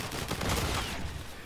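Dense, rapid gunfire in Call of Duty: Infinite Warfare multiplayer, a continuous crackling burst of shots lasting about a second and a half, with no talking over it.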